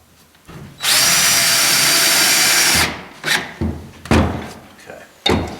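A power drill drives 1.5-inch screws into a seam. There is one long, loud whirring run of about two seconds, then several short knocks and thuds nearby.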